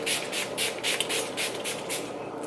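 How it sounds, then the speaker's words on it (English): Mario Badescu facial spray with aloe, cucumber and green tea spritzes close up in a quick run of hissing bursts that repeat steadily with no talk. "spritz that all over the face, kind of dust that off"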